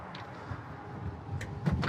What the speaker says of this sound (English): Door opens, closes really solid, nice.